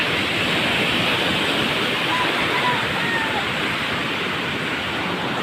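Floodwater rushes steadily after Typhoon Kristine near a flooded resort, a loud, continuous broadband roar like a torrent that holds level throughout with no break.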